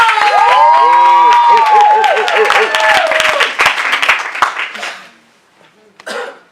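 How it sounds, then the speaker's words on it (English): An audience at a rehab center event claps, cheers and whoops loudly for a speaker, with high shouts rising over the clapping before it fades to a brief lull and a short final burst of voices. "let's give a round of applause for our last but not least speaker, Marlo Miller"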